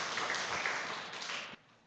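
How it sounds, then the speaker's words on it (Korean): A church congregation claps together at a Sunday morning worship service, a thick, steady wave of applause that swells briefly and then stops abruptly, leaving quiet room tone. "우리 박수로 격려해 주시죠."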